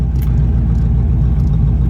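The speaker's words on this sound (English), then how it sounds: "You let the clutch off. You give it more gas." A manual-transmission car pulls away from a stop, its engine holding a steady, loud low hum that builds slightly as the clutch engages and throttle is added, with no talking.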